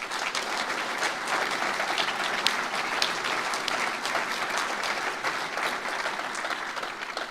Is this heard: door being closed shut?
no